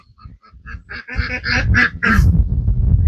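Several loud, close duck quacks in a quick run, growing denser and noisier toward the end.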